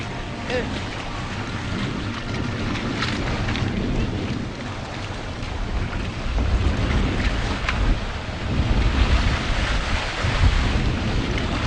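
Strong wind gusting over open sea around a thin, slippery bamboo platform on a Bugis coast in Lampung, a steady loud roar with heavier buffeting swells toward the end, with faint talk underneath.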